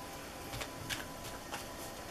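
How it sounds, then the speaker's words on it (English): Rider-Waite tarot cards being shuffled, with soft papery riffles and flicks in several brief bursts over a steady low hiss, fairly quiet and close. "I'm gonna shuffle it until the card comes out"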